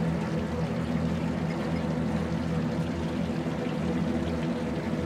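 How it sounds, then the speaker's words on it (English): Water from flooded streets rushes steadily into a stone chamber in the adventure game A New Beginning, a continuous full-bodied pouring roar with no break, close and loud throughout. "That is water from the streets."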